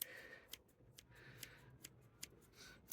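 A pair of scissors trims moss around a cotoneaster, giving a series of quiet, crisp snips at a fairly even pace, faint and close with no talking.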